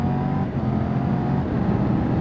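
Triumph Tiger 1200 motorcycle engine pulling steadily under throttle, a close, continuous drone over rushing wind noise for a couple of seconds, with no voices.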